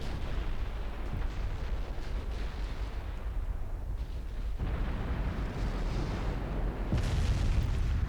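Naval guns in Ultimate Admiral Dreadnoughts fire high-explosive shells, producing a dense, rumbling barrage of booms and blasts that rolls on continuously, with a sharper, louder burst near the end.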